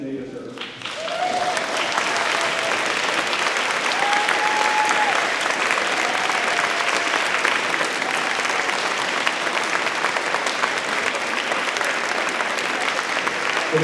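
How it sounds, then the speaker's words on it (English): Loud, sustained applause from a school crowd honoring military kids at a Purple Up Day celebration, swelling in after a quiet start and continuing evenly, with a few faint voices mixed in. "Let's give them the applause and appreciation they deserve."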